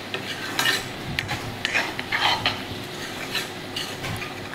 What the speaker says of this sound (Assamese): মই অলপ মাংসখিনি ভাজি আছোঁ এতিয়া।